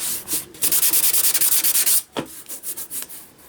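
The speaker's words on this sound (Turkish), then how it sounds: "Ben de kaynak yaptığım bütün yüzeyleri zımparayla düzeltmeye çalışıyorum." Welded repair areas on a cracked plastic car bumper being sanded smooth, a run of rapid, loud rasping strokes, a pause, then several shorter, softer rubs.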